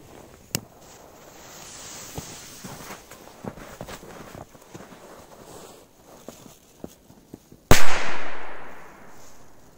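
A firecracker goes off outdoors, one loud sharp blast followed by a decaying roar, after a stretch of faint rustling and small knocks.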